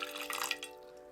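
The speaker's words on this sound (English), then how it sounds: "we're going to pour the hot water over the Polaroid and all the way around" Hot water poured from above into a dish over a face-down Polaroid, a brief faint splashing trickle that fades quickly, heard alone.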